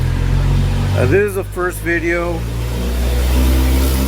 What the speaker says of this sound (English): You might hear some traffic or a truck going by.